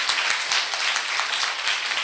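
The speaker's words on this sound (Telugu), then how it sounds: "చప్పట్లు కొడదాం." Congregation applauding during a church sermon, a dense steady wash of many hands clapping together for about two seconds, fairly loud and continuous with no speech over it.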